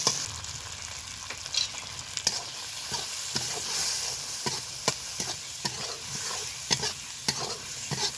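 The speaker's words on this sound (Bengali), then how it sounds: "এইভাবে একটা টমেটো দিয়ে মশলাটা আবারও কষিয়ে নেব।" Tomato and spice masala frying in a pan while being stirred, a steady close sizzle broken by repeated sharp clacks of a spatula against the pan.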